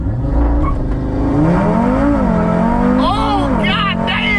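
A stock-turbo Audi RS3 with a Unitronic tune launches hard and accelerates from 0 to 60 mph, its engine note climbing loud and close through rising revs with a couple of quick gear changes, while a voice can be heard over the engine.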